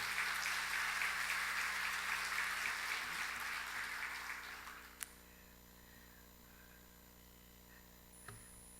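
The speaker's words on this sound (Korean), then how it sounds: "오늘 주님께만 영광의 박수 올려드립시다" A church congregation at a Wednesday evening service claps in praise, a dense wash of applause that fades out by midway, leaving a quiet room with a steady electrical hum and a couple of small knocks.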